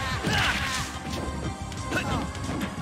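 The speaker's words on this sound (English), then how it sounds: "I cannot deal with this Mii Brawler noise that I'm hearing" Mii Brawler fighting in a Super Smash Bros. Ultimate match, a dense burst of rapid punches, whacks and crash effects stacked closely together over a busy game mix.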